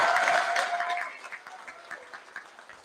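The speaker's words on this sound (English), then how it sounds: "Another round of applause, please." An audience at a school prize giving assembly claps loudly at first, and the applause thins and tapers into scattered individual claps that fade away.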